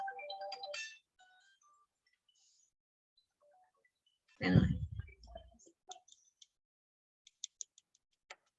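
A mobile phone ringtone plays near the start as a short, bright electronic melody; a loud thump and rustle follow, then scattered faint clicks in a quiet room.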